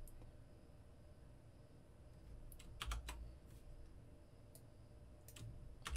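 Computer keyboard typing a formula, a quiet scattered run of soft key clicks with a brief cluster of taps in the middle, heard alone in a quiet room.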